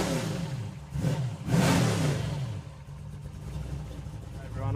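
A car with a 23-degree Chev V8 engine revs at Brisbane Roll Racing, giving two loud rising bursts early on before settling into a lower rumble, with people talking over the noise.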